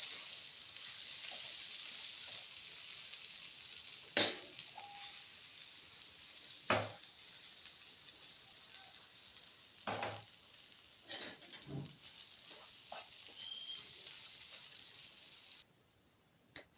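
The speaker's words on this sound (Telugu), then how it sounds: "ఇప్పుడు ఫ్రై అయింది కదా, ఫ్రై అవుతూ ఉంది." Bitter gourd and onion fry quietly in a pan, a faint steady hiss broken by several sharp clinks and scrapes of a spatula or lid against the metal.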